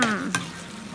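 Chicken stir-frying in a pan with soy sauce and young chilies, a short burst of sizzling with a scrape of the spatula, fairly quiet and close.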